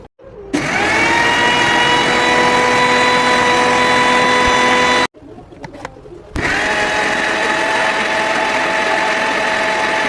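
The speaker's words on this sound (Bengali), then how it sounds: "এখন আমরা এটাকে ব্লেন্ডার করে নিব।" An electric blender whirs loudly, grinding fresh coriander, green chili, garlic cloves and salt into a sauce, running steadily for about five seconds, stopping briefly with a few clunks, then starting again and running to the end.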